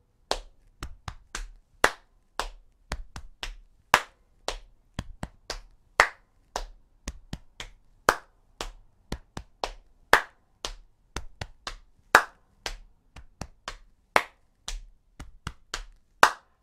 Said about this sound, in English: it's knee, chest, knee, clap, knee, chest, knee, clap